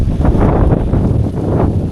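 Steady wind buffets the microphone in a continuous low rumble and rush, with no voices over it.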